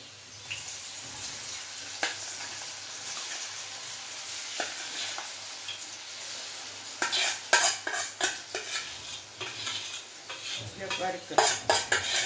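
Gram flour zunka with garlic and ground dal mixture is stirred and turned in a pan over a low flame, a soft steady sizzle broken by scraping utensil strokes that grow busier and louder toward the end.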